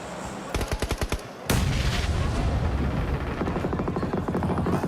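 Video game combat with a grenade exploding, first a rapid burst of gunfire, then a sudden loud blast that rolls into a sustained rumble of fire and shooting, dense and close throughout.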